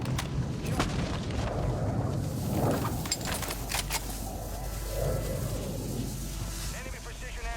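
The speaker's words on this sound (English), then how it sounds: "Hostile mortar strike near your position" Mortar strike explosions in a video game: deep low booms and rumbling blasts, moderately loud, partly under a person talking.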